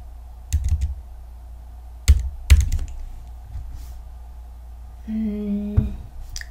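Computer keys tapped a few times in separate sharp clicks close by, with a short burst of typing near the end, over a quiet room hum while building a Scratch project.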